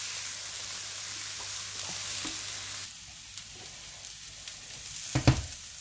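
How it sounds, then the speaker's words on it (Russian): Vegetables fry and stew in a pan for soup, giving a steady soft sizzle with occasional stirring scrapes and a few louder clatters near the end. "пока у нас с вами здесь поджарка, тушится, жарится"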